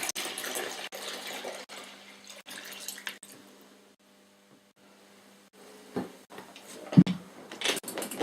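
Cold tap water runs into a 32-pint vessel for home brewing beer, a steady splashing and trickling stream that thins almost to silence midway, then resumes with louder gurgles and splashes near the end.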